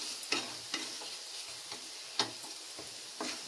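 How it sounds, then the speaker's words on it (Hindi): Jaggery and sugar roasting on a low flame for puran poli, a faint steady sizzle broken by several soft scraping stirs spaced about a second apart, with no voices. "तो चलिए हम सभी को भून लेते हैं। इसे धीमी आंच पे भूने।"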